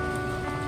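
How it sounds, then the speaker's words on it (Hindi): Heavy rain pours down in a steady, dense hiss of drops striking surfaces, loud and close with no voices. "ये तो और तेज़ होती जा रही है बारिश"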